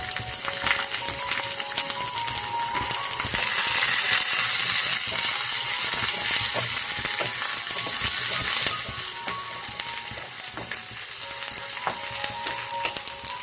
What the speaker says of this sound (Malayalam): പച്ചമുളക്, ഇതൊന്ന് മൂക്കട്ടെ.